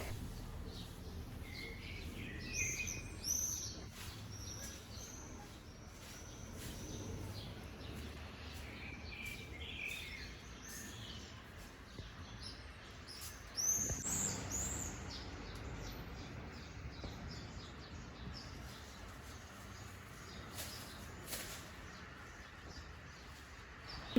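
Birds sing outdoors in a quiet setting, scattered chirps and short trills sounding at moderate distance over a soft background hush, with a few louder calls standing out.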